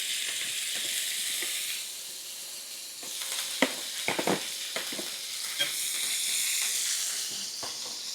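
Thin shaved beef for cheesesteaks sizzles across two frying pans, a steady close hiss broken by sharp clicks and scrapes of a utensil partway through, with no talking.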